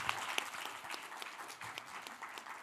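Audience applause welcoming a professor on stage at a Seoul conference session: steady, dense clapping from a moderately distant crowd, holding level throughout with no voices over it.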